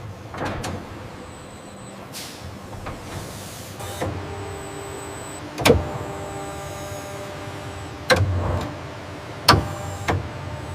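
A plywood mill conveyor carries a conditioned log toward a high-speed rotary lathe: whirring electric motor drive under hollow clunks and knocks, with sharp mechanical bangs near the end.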